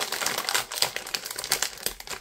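Snack chip bag crinkling as it is pulled open, a dense continuous rustle of plastic packaging with small crackling peaks, close and fairly quiet, no talking.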